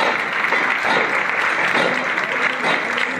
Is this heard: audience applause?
yes